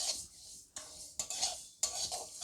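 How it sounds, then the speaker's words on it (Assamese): Mung dal being dry-fried in a kadai, stirred with a utensil in three or four quiet sweeping scrapes across the pan's metal surface, close and unaccompanied by speech. "মই প্ৰথমতে 1 মিনিট টাইম মুগ দালিখিনি ভাজি ল'ম।"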